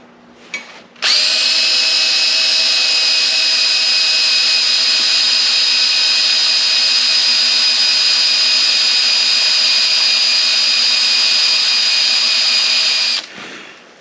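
A 1/4 inch bit drills into metal for a folding camping grill, the drill whining at a steady high pitch for about twelve seconds, loud and close, starting and stopping abruptly.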